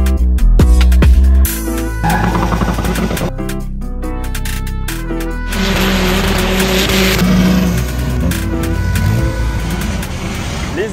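Performance car making hill-climb runs on Réunion, engine revving and accelerating hard with loud shifting bursts, then a sustained strained roar, close and dominant.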